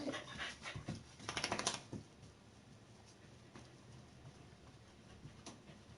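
A dog panting right up close, with fast rhythmic breaths that rise into a burst of heavier huffing before settling into quieter, softer panting.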